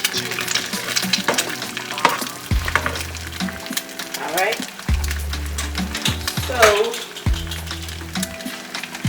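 Eggs fry in a pan for breakfast, giving a loud, continuous sizzle broken by stirring scrapes and occasional clinks of utensils against the pan.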